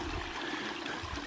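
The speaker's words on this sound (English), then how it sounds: "You got two nice little sliding cascades here." A forest creek slides over small rock cascades, giving a steady, soft rushing murmur of flowing water with no other sounds.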